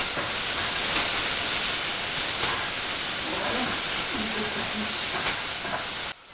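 Onions frying in a hot pan on a stovetop give a steady, dense sizzle and hiss that runs unbroken for several seconds, close and fairly loud with no talking over it.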